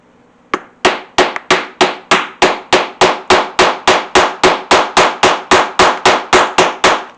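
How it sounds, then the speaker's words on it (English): A steel setter is hammered onto a leather snap resting on an anvil while a concealed carry pouch is made. The strikes come as about twenty sharp, ringing metallic blows at a steady, even rhythm, close and loud. "We'll put our button on our curve part of the anvil. Take the setter and do the same thing."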